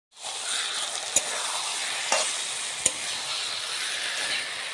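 Small mola fish fry in a pan for a chorchori with eggplant. A steady, loud sizzle continues throughout, broken by a few sharp clinks of a spatula as the fish are stirred.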